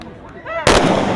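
One sharp, loud military ceremonial gun salute blast bursts out at an outdoor sports event after a brief stretch of faint background voices, followed by a lingering echoing rumble.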